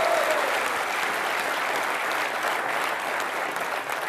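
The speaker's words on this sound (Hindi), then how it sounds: "जोरदार तालियां।" A television studio audience at a Hindi comedy talk show claps loudly and steadily, a dense, sustained burst of applause that fills the whole stretch without talk over it.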